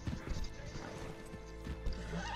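Horse sounds from the Red Dead Redemption 2 video game, with a low snort or whinny and hoof clip-clop over a busy in-game background, heard alone without talk.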